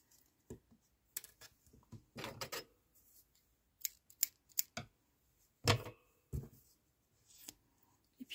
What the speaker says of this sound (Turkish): İpi kesiyorum.